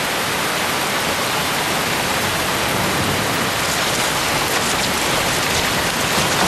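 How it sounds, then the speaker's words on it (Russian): Heavy rain pours down during a Scottish winter storm, a dense, even hiss of downpour with no pauses, steady and loud throughout. "Свинцовые облака обрушиваются ливнями вместо снега."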